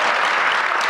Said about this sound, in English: Please give our city manager a round of applause in this house